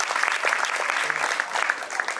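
An audience at a school graduation ceremony for board students claps warmly, a close, continuous patter of many hands with no voices over it.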